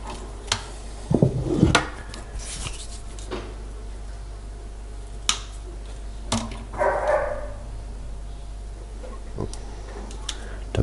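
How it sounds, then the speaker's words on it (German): A dog barks a few times in the distance near a home, with sharp scattered knocks and clatters closer by in an otherwise quiet room. "Da bellt ein Bello."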